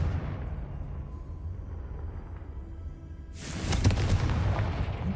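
A Confringo blast spell in the Hogwarts Legacy video game goes off as a sudden loud explosive burst partway through, after a dim, low rumbling ambience, then a bright crackling tail that fades.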